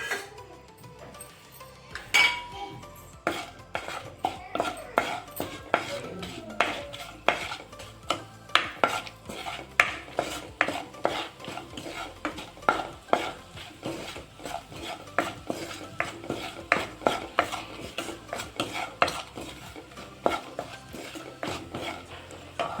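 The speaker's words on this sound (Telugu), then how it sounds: "లవంగాలు, చెక్క, యాలకులు, ధనియాలు, షాజీరా ఇవి వేసేద్దాం. ఇది కొంచెం ఫ్రై చేద్దాం" Whole cloves, cinnamon, cardamom, coriander seeds and shahi jeera stirred in hot ghee for a paneer curry, with a busy run of metal spoon scrapes and clinks against the pan over a faint sizzle, steady and close.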